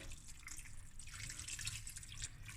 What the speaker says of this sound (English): Now for the rice to cook till your desired softness, I add water